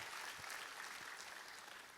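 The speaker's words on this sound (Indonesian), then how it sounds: "Kita kasih tepuk tangan yang paling meriah buat Tuhan." A church congregation claps for God during a sermon, a soft, distant wash of steady applause that holds evenly throughout.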